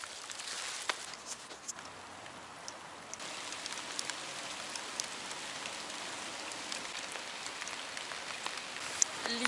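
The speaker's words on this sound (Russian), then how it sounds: "Дождь не перестает." Steady rain pours down on an outdoor fishing spot, a dense close patter of drops hitting surfaces with scattered louder taps, continuous and moderately quiet without talk.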